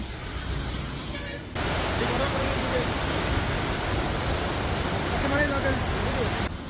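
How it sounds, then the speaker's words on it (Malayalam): Strong rushing water after rain in Munnar, a loud, steady broadband roar filling the scene and holding constant, with a voice faintly audible over the flow. "നല്ല കുത്തൊഴുക്കിലാണ് വെള്ളം പോയിക്കൊണ്ടിരിക്കുന്നത്."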